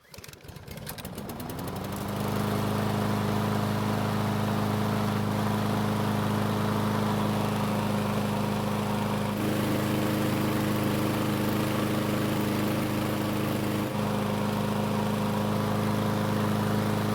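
A small engine with a dirty air filter sputters as it starts, then settles into a loud, steady running drone that holds for the rest of the clip.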